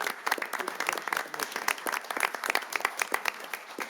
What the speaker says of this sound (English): Can we have a round of applause for our entire Beautification